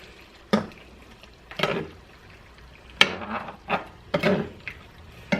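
Rigatoni pasta being stirred and combined in a pan, heard as a series of separate scraping, clinking and wet sloshing bursts at irregular intervals, close by and with no talking.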